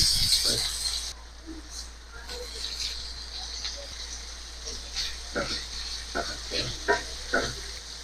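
Onion, garlic and ground pork sauté in hot oil for a sayote dish, giving a steady close sizzle with scattered clicks and scrapes of stirring throughout.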